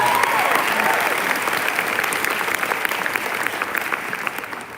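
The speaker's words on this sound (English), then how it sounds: "let's give a round of applause for all the volunteers who made this happen" Audience at a Girls State event clapping for volunteers, a steady dense roar of many hands that swells with sharper individual claps, then slowly fades; a voice is briefly heard at the start.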